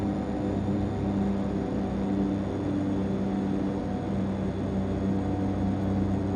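A de Havilland Canada DHC-6-300 Twin Otter taxis in the FSX flight simulator, its propeller engines droning in a steady, even hum with a constant high whine, moderately loud and alone.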